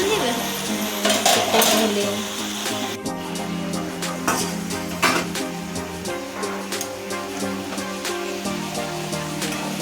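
Pumpkin greens, potato and eggplant curry is stirred in a pan, with repeated metallic scrapes and clinks of a spatula against the pan over a light background hum, some strikes sharper and louder than others.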